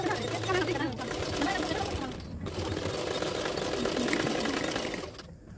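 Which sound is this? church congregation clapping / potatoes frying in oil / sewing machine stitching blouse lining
sewing machine stitching blouse lining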